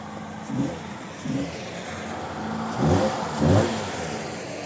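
A car engine turns over and starts, then revs up in four short bursts over a steady idle, close by and with no talk.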